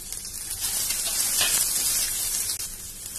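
Onions frying with curry leaves in a hot pan give off a steady, close hissing sizzle that stays bright and continuous throughout, with no talking over it.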